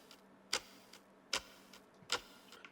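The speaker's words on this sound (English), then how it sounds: "And that's just a grandfather clock" Slow, even grandfather clock ticks, three sharp strikes about 0.8 seconds apart, each trailing a soft echo from added delay and reverb, with fainter ticks between, in a quiet space.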